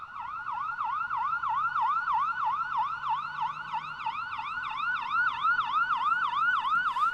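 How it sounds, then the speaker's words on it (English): An ambulance siren sound effect wails in a fast, repeating up-and-down pattern, loud, steady and close, heard alone without any talking. "I'm going to go with siren. The correct answer is ambulance."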